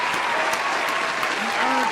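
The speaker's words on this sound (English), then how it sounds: "Give him some clap." Audience applause, a steady dense clapping that runs continuously at even loudness with some voices mixed in.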